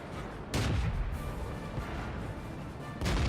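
Tank cannon fire in World of Tanks from a French BDR G1 B: two heavy, booming blasts about two and a half seconds apart, each a sharp crack over a steady rumble of engine and battle noise.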